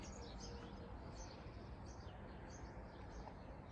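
Faint chirping birds somewhere in the distance, small repeated calls over a steady, quiet outdoor hiss.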